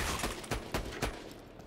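Gunfire from the video game Borderlands 2, Mr. Torgue's Campaign of Carnage DLC: four sharp, loud shots in quick, even succession, each roughly a quarter second apart, with no voices.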